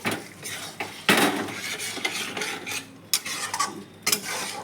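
A spoon gently stirs a fish and vegetable chorchori made with small mourala fish in a pan, giving soft scraping and rubbing strokes with a light sizzle and a few sharper clinks against the metal.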